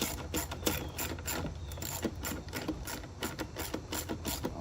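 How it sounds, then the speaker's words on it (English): A ratchet wrench tightening a bolt on a Powerhorse 4500i inverter generator during a propane conversion, rapid steady clicking strokes close to the microphone, with no talking. "get that tightened down"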